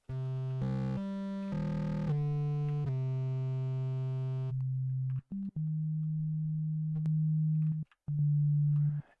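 Buzzy synthesizer tones sent through distortion, rich in harmonics, shift between sustained pitches, with brief gaps and a few clicks between the held notes.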